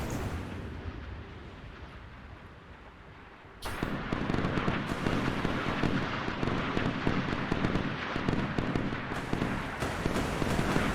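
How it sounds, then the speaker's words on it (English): Warships firing missiles in the naval combat game Sea Power: a quieter rumble gives way to a sudden loud, dense roar of launches and blasts that continues without pause. "Look at all the missiles they're shooting though"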